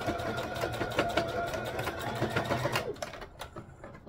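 A sewing machine stitches down a seam on a wrap skirt, with a close, steady rapid whirring and needle chatter for about three seconds before it slows and stops.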